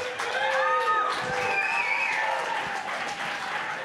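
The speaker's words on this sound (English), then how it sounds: "warm of applause for Eugene." A large audience at the 2022 Best of the Midwest Awards show bursts into sustained, loud applause, with some whistles and cheers ringing through the clapping.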